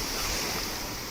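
Sea waves washing onto the shore at Karachi, a steady broadband surf wash with some wind, heard alone at moderate loudness.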